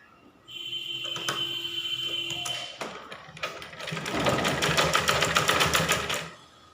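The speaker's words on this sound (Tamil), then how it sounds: "இந்த இடத்துல படிவு தையல் போடணும்" A sewing machine stitches around the neck of a blouse, running in a short burst, pausing with a few clicks, then a longer, louder steady whir before stopping.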